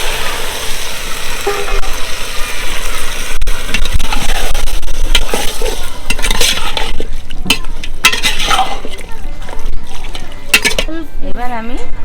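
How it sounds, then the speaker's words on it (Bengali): Mutton curry sizzles loudly in a pan as a little water is added and the pieces are stirred, with continuous frying hiss and scraping of the utensil against the pot, heard close up. "এবার আমি কষানোর জন্য অল্প জল দেবো।"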